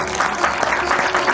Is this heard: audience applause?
yes